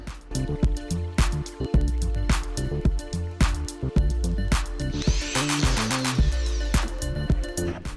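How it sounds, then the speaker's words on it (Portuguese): A drywall screw gun drives a screw into plasterboard, giving repeated sharp clicks and a brief whirring burst near the middle, close and fairly loud with no talking. "você segura a parafusadeira por aqui, por cima, e aperta o gatilho com esses dois dedos de baixo"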